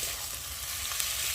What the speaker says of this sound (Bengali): মশলাটা বেশ ভালোভাবে কষিয়ে নিয়েছি, মশলা থেকে একটু তেলও ছেড়ে দিয়েছে